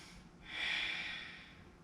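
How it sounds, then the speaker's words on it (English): A long breath during a yoga flow, a soft airy exhale swelling for about a second in the middle of the clip and fading out, close and calm, with no talk. "Breathing here."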